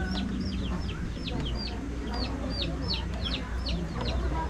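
Native chickens cluck repeatedly in a farmyard, a string of short rising calls from several birds close by over a low background rumble.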